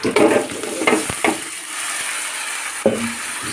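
Vegetables and singi fish stir-fry in a hot pan, loud sizzling and frying punctuated by several quick scraping strokes of a spatula, close and without talk.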